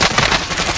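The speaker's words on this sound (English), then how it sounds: "Taking shots here." Rapid automatic gunfire from the video game Warzone, a loud dense burst of shots that fills the whole brief moment.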